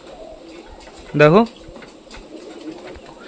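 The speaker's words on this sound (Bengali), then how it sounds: "এদিকে অনেকগুলো পায়রাই ঘরের ভেতরে ঢুকে গেছে" Pet pigeons kept indoors give one short, loud coo with a rising warble, close by, while a person speaks briefly over quiet room noise.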